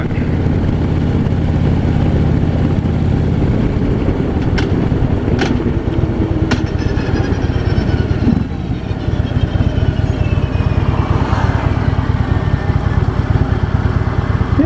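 A 2015 Harley-Davidson FLHTP motorcycle engine rumbles deep and steady at low speed during a turnaround. Its loud, throbbing idle continues throughout with faint shifts in tone.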